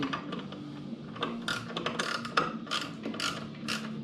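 A ratchet winds a stud out of a Harley-Davidson handlebar riser with rapid, close clicking bursts and short pauses between strokes.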